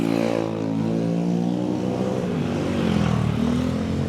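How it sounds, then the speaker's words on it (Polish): Loud scooters driving past, a droning, buzzing engine tone that holds steady and shifts pitch slightly as it passes, filling the scene on its own. "Jeżdżą tymi głośnymi skuterami czasami nic nie słychać."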